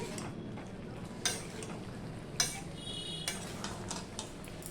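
Vegetables being stirred in a cooking pot for a mixed vegetable dish, with soft scraping and scattered spoon clicks against the metal over a faint steady sizzle, close and fairly quiet.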